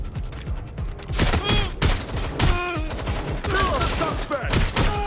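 Rapid bursts of gunfire from a suspect in the video game Watch Dogs: Legion, loud and close, with repeated volleys cracking over sirens and game noise while voices shout.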